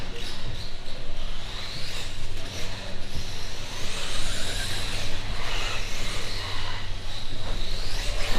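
A Traxxas 1/16 scale E-Revo electric monster truck runs laps on an outdoor bash track, its motor whining and tires crunching as it swells close and fades away in repeated passes, with wind noise underneath.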